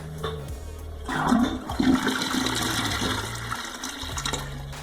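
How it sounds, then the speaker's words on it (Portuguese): A toilet flushed right after being unclogged with a garbage bag: a close, loud rush of swirling water that surges and drains steadily for several seconds, with no voices. "Vou dar descarga."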